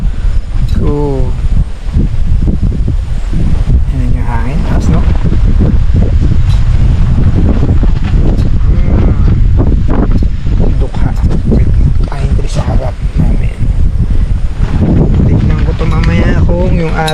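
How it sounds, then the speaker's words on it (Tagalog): Cold, strong wind gusts steadily at a campsite by Lumut Lake, loud and continuous, buffeting the microphone throughout while people talk over it. "Sarap ang hangin niya. Ang lamig."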